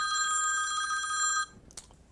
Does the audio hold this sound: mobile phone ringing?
yes